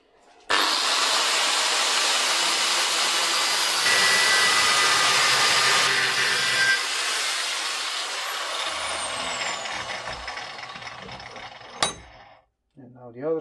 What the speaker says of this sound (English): Let's grind a bit more.